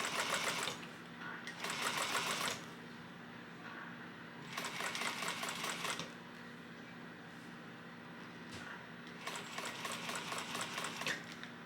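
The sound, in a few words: sewing machine top stitching fabric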